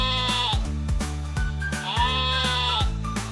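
A black sheep bleats twice in long, wavering cries, loud and close, with a short pause between them and no talk over it.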